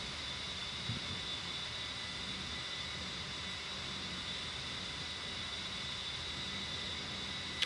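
Steady, droning engine roar from a ground attack aircraft in the DCS flight simulator game, a constant even hiss-laden whine holding throughout with a high tonal note on top and no talk.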